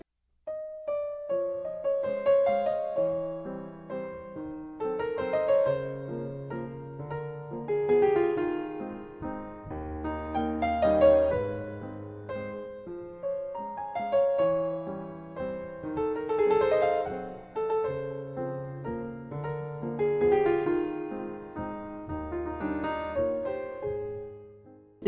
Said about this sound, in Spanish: El vals suena así de nostálgico.